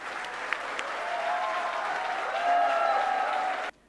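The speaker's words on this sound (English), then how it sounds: "please join me in giving Shah Rukh a resounding round of applause" A large audience applauds Shah Rukh Khan at an IIM Bangalore event, steady dense clapping that swells slightly midway and holds loud before cutting off abruptly near the end.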